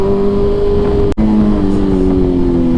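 A BMW S1000RR motorcycle with a titanium competition exhaust holds a loud, steady engine drone at high revs, broken by one abrupt instant cutout before the note resumes.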